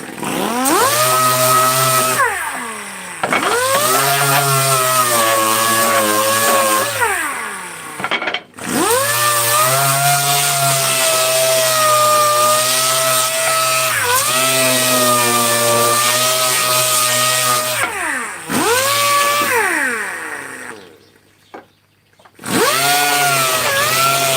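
Electric sander working over a wooden chair, a steady loud motor whine sustained for long stretches, briefly cutting out and restarting several times, with the pitch dipping slightly as pressure on the wood changes.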